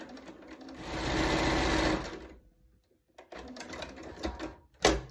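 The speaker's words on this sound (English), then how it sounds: "and sew it on to this" Sewing machine stitching quilt block pieces runs steadily and loud for about two seconds, stops, then starts again in shorter bursts with a soft clatter near the end.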